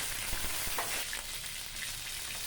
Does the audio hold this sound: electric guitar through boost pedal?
no